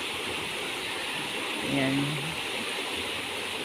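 A flooded river rushes strongly past, a loud, constant broadband roar of churning water close by, with a brief voice speaking over it.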